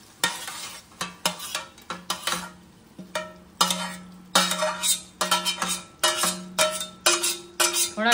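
Fried paneer is stirred into onion gravy in a metal pan, with repeated ringing clinks and scrapes of a spoon against the pan in an irregular rhythm over a soft sizzle, close and clear.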